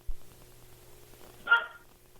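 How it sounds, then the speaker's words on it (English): Dogs barking somewhere nearby, with guard dogs answering: a single short, fairly loud bark burst mid-clip against an otherwise quiet background. "Some dogs are barking and my guard dogs are responding."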